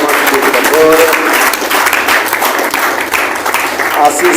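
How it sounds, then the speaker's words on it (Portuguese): Loud applause fills a church service, dense and continuous clapping from the congregation with a few voices mixed in underneath. "Salva de palmas, por favor."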